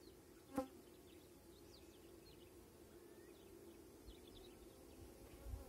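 Bees fly in and out at the entrance of a small hive producing little honey, a faint continuous buzzing drone with occasional soft knocks, no voices.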